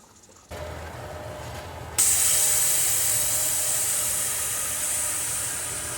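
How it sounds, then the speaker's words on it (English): Antifreeze pumped into a Mahindra 8560 tractor tire for ballast gives a steady, loud hissing rush that begins softly, then jumps louder at about two seconds and continues evenly. "you can hear the antifreeze going into the tire there"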